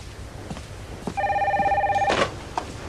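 A telephone rings indoors with a single clear electronic trill lasting about a second, bracketed by faint clicks and movement.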